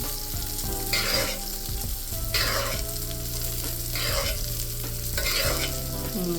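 A ribeye steak fries in a hot pan with a loud, steady sizzle, and bursts of brighter crackle and spatter return about every second and a half as the meat browns.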